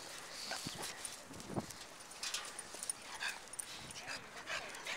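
A nine-year-old dog whimpers and yips in short, uneven bursts, close by, while a person talks over and around it.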